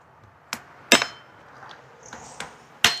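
Sharp hammer blows crack open a hard stinking toe fruit pod, five uneven strikes close by, with some bright ringing clinks between them.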